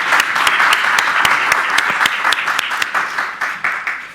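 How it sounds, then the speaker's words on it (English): Audience applause for a panel at a talk on small states and migration, a steady dense round of clapping from a crowd, fairly loud and continuous, thinning slightly toward the end. "with a big round of applause"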